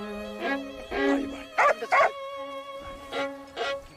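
Bowed viola imitating a dog's bark in a Vivaldi piece, short repeated accented notes in irregular pairs over sustained string harmony, close and clear.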